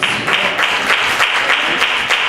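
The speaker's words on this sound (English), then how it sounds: "Clap your hands and give God some praise in this house." Church congregation clapping hands in praise during a service, a dense, steady wash of many hands with a loose rhythmic pulse, loud and continuous throughout.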